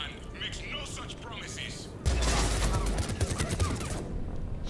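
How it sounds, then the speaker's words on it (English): Combat in the video game Mass Effect 3 Legendary Edition, with muffled shots at first, then a sudden loud, dense fusillade of rapid gunfire that continues to the end. "Where am I getting shot from?"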